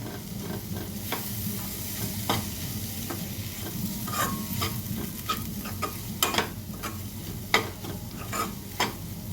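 Spices and coriander sauté in hot oil for a moth bean (matki) bhaji, a steady close sizzle broken by frequent sharp scrapes and taps of a spoon stirring against the pan.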